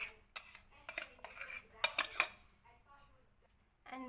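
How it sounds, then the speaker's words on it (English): A spoon mixes carrot cake batter in a bowl, giving a series of quick scraping and clinking strokes in bursts, close and fairly quiet, followed by a pause and a final clatter. "Bella's mixing it well."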